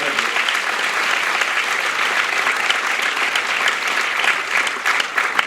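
An audience at a Jain temple event claps loudly and steadily, a dense sustained round of applause heard alone throughout.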